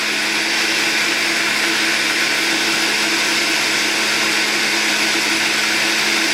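A blender whirs loudly and continuously as it purees food, a dense steady motor whine held without pause, close up with no speech.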